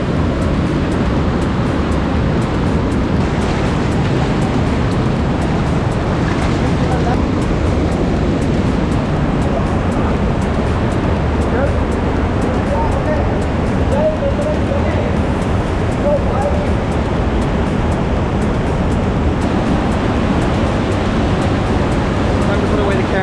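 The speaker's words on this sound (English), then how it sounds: "the waterfalls are loud" A waterfall in Jordan roars loud and close, a dense, unbroken rush of crashing water that never lets up from start to finish.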